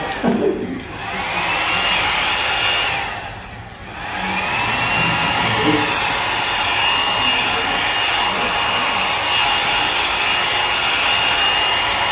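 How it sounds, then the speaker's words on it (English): A hair dryer blows steadily at close range with a continuous whooshing roar, briefly dipping twice in the first few seconds before holding a constant drone. "and then my beautiful hair dryer."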